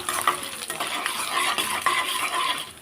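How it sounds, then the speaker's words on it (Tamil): Ginger and garlic sauté in hot oil for tomato chutney, a close, continuous sizzle with quick scraping and clinking of a spatula against the pan, no voices. "ஒரு பதினஞ்சு கிராம் இஞ்சி பதினஞ்சு கிராம் பூண்டு போட்டிருக்கேன் இதையும் வதக்கிக்கிடுவோம்"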